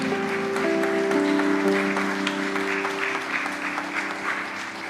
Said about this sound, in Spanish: dele un aplauso fuerte al Señor Jesús